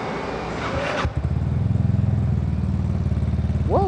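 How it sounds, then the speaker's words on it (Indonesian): A Vespa Sprint scooter with a Remus exhaust fires up after a short rattle and settles into a deep, throbbing idle with a quick rev at the end, loud and close. "Yuk kita lihat aja sekarang kayak apa bunyi dari motor ini"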